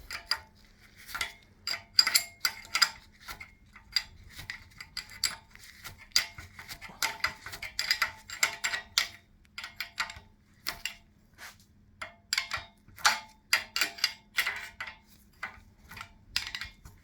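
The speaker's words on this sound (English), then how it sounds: "So now I have to turn the bolts little by little." Small metallic clicks and taps from bolts being turned little by little on an M72 sidecar frame during assembly of its suspension, a quiet irregular stream of close ticking with light clinks, no talking.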